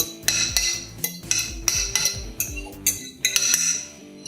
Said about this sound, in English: So just dump that into a bowl.